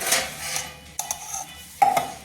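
A metal lid set onto a pot of chicken biryani over hot coals, with sharp clinks and scrapes of metal on metal arriving in a few separate bursts, close and fairly clear.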